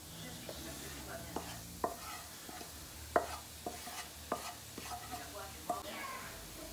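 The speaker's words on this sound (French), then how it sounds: "je mélange les deux et ça va constituer la base de ma farce" Caramelized onions cooked in olive oil and salt are stirred into a filling mixture, soft spoon knocks and scrapes recurring at an irregular rhythm against a faint background, with no speech.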